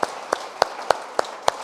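A church congregation claps in unison, about six sharp, evenly spaced claps in a steady quick rhythm, moderately loud in a reverberant hall.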